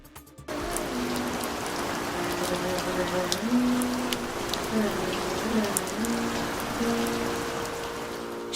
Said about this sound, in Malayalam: ഇടമുറിയാതെ പെയ്യുന്ന മഴ